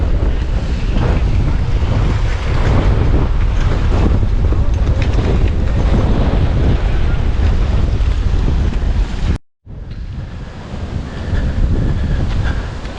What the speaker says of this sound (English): again, I apologize about the wind.